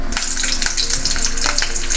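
Green chillies drop into hot oil in a pan for a brinjal curry, giving a loud, close, hissing sizzle with bursts of crackling, brief and without speech.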